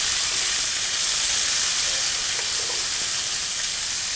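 Kalamata olives sizzle and hiss steadily in a frying pan while being stirred, a dense, bright crackle that stays close and even throughout with no voices.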